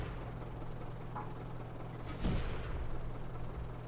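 A single deep, booming shot from the main gun of a Type 97 Chi-Ha tank in World of Tanks, heavy and fairly close over a steady engine rumble, with a short tail.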